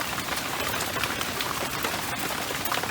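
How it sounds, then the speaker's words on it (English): Steady rain pours down outdoors, a dense, even patter of drops hitting surfaces with no break across the short stretch and no voices. "I just wanted to give you a chance to at least hear the rain."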